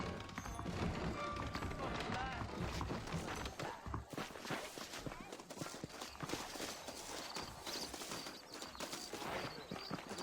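Horses gallop in the Western video game Red Dead Redemption, a dense, steady clip-clop of hooves that runs the whole stretch and is mixed with game music and ambience.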